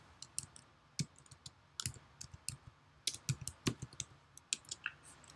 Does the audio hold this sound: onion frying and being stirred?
no